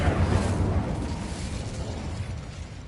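The Incendio fire spell cast in Hogwarts Legacy, a broad whooshing burst that starts strong and settles into a steady crackling roar, loud and sustained with no talk over it.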